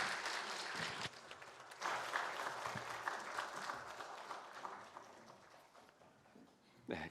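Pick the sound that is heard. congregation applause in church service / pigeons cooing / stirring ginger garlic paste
congregation applause in church service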